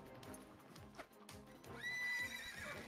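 In the game NU: Carnival, a horse neighs loudly and shrilly toward the end, preceded by irregular clopping hooves and scuffles close by.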